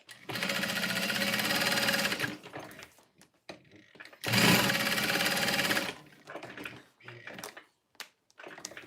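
A sewing machine runs top stitching in two long steady bursts of rapid needle chatter, the second louder, separated by pauses, followed by softer handling clicks and brief fabric shuffling.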